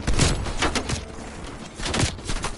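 Enemy gunfire in the Call of Duty Cold War campaign: several sharp bursts of shots crack in quick succession, fairly loud, with a short lull between the volleys.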